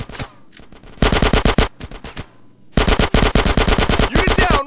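Bursts of automatic machine gun fire in GTA San Andreas, loud and close, coming in rapid rattling volleys with a short pause between them, then a long sustained stream of shots.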